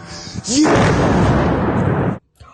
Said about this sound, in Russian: взрывы в Саратове и Энгельсе начались около часа ночи и шли почти до 5 утра